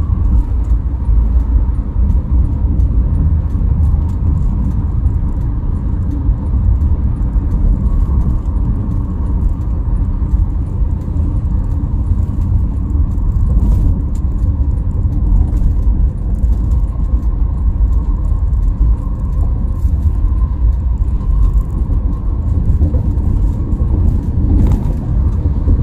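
Steady roar of car and truck traffic on the Trans-Java toll road between Cipali and Cirebon, a continuous loud rumble of passing private cars, box trucks and buses with no talk over it.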